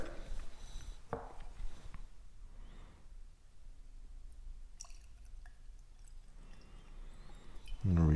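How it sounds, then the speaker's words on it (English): Deanston 12 Highland single malt Scotch poured into a glass, giving a faint, close trickle and a few drips in a quiet room, ending with a brief clunk. "Maybe pour this one now and get it airing out"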